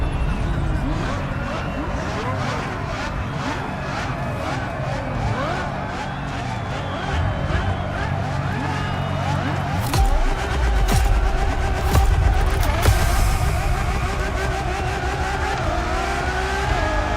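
A Ferrari Enzo races in The Crew Motorfest, its engine roaring and revving hard with rising and falling pitch. Gear shifts and tyre noise cut through, and the engine surges louder toward the end.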